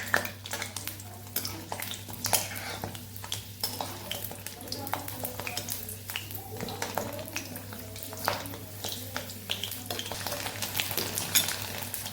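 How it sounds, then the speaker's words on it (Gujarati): Green chillies fry in hot oil for a Mahashivratri fasting dish, a constant crackling sizzle with frequent sharp pops and spatters, close and moderately quiet over a steady low hum. "અહીંયા આપણા મરચાં સરસ તળાઈ ગયા છે"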